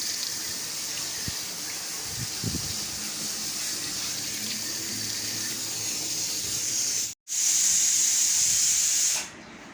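Tomatoes and chillies are washed under a running kitchen tap, a steady close hiss of flowing water that stops suddenly and then briefly gushes louder before shutting off.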